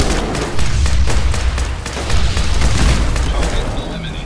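Explosive-round gunfire from Fallout 4 during a settlement defense, a loud, dense barrage of rapid shots and booming blasts that runs continuously throughout, with heavier surges near the start and middle and no voices over it.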